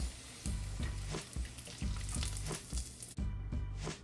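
Egg roll skins fry in hot oil with a loud crackling sizzle, broken by repeated bursts of bubbling and spatter in an uneven rhythm.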